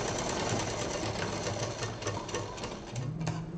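Sewing machine stitching a fabric turtle pouch, a steady fast mechanical whirr with rapid rhythmic clatter of the needle, close and continuous.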